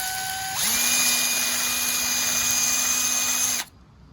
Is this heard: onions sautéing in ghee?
no